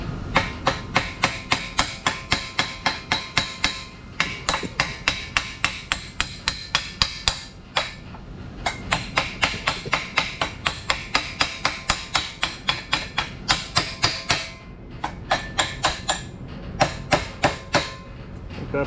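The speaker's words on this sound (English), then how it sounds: "Let me smack it one time. Get some slag off of her." Rapid metallic hammer blows chip slag off a fresh weld on a Harbor Freight jack stand, dozens of sharp close strikes in quick bursts with brief pauses, loud and ringing.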